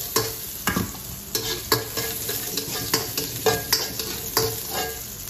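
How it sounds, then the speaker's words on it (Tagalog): Onion goes into garlic frying in a pan for a small single serving of fried rice, with steady sizzling broken by repeated sharp stirring scrapes and clatters close by, no talking. "Lagay ho natin yung sibuyas."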